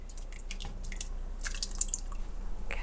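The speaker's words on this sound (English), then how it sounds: "Our next step is to add our tomatoes to our chili." Tomatoes being added to a pot of heart-healthy chili, heard as soft wet plops, drips and squishy splatters scattered irregularly at close range, with no talking.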